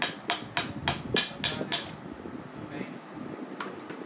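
Seven sharp metallic hammer blows strike a stuck valve from a Karcher HD 585 pressure washer held in a vise, evenly spaced and close, followed by a pause and one lighter tap.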